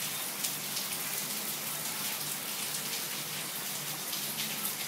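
Steady rain patters and hisses continuously, evenly and fairly close, with no voices.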